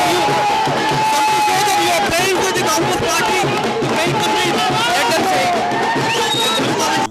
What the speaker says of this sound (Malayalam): ഒന്നിനും സമ്മതിക്കാത്ത ജനക്കൂട്ടം